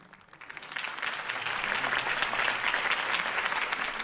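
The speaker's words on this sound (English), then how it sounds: "If only Mr. Wayne, my campaign's largest backer, could have heard that applause" Crowd applause follows a campaign speech in the Batman Telltale video game, swelling from a light start into dense, sustained clapping that holds steady to the end.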